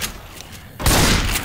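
Burst of rapid gunfire in Left 4 Dead 2 during The Parish on Expert, breaking out loud and dense after a quieter lead-in and sustained to the end.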